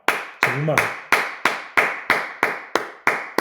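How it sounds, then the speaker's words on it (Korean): A church congregation claps in unison during a sermon, about nine sharp, evenly spaced claps in a steady rhythm, with a brief voice heard early on. "정말 이거는 박수를 안 칠래 안 칠 수가 없는 거예요"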